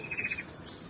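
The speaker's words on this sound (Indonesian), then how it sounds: "Ini saya tahu ini namanya burung lakbet ini tuh" A caged lakbet bird at a rural village house near a bamboo grove gives one brief, trilling chirp that is fairly close, then quiet background.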